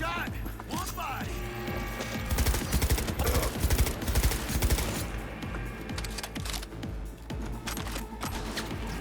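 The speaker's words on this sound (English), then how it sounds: "Man, you suck at shooting." Gunfire during a Cyberpunk 2077 shootout: repeated bursts of shots over a busy layer of game music and effects, fairly faint overall, with a voice speaking at times.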